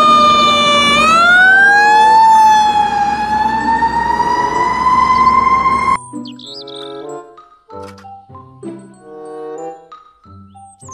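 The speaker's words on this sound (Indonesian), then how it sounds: "Mobil, truk, pemadam kebakaran." A toy fire truck siren wails loudly for several seconds, its electronic tone sweeping up, then cuts to short bright beeping chirps and jingles.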